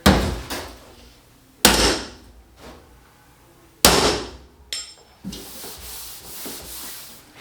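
Hammer taps strike a flat tool held against car body sheet metal to work out dents during drift car paint prep, landing as several sharp, loud, well-spaced knocks with brief rubbing between them.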